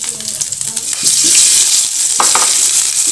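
Macaroni sizzles and crackles in a hot pan on the stove, with a spoon scraping and stirring now and then, loud and close throughout.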